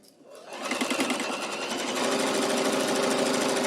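A sewing machine stitching a quilt block starts up and quickly settles into a fast, steady mechanical whir and chatter, loud and close, running continuously without talk.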